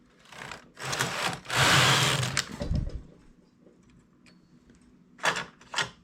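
A domestic knitting machine fitted with a ribber knits one row. The carriage runs across with a loud mechanical rush, with shorter sliding bursts and clicks after it and no voices.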